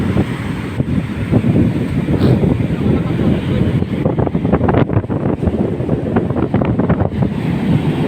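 Big sea waves crash and wash along the beach at Infanta, Quezon in December, a loud continuous surf roar with heavy wind buffeting the microphone throughout.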